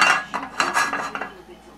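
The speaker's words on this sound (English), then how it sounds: "I'm going to take this little pan here," A small cooking pan is handled on a home stovetop while making mac and cheese with bacon and shrimp, giving close metallic clinks and scrapes in a few quick bursts, with no talking.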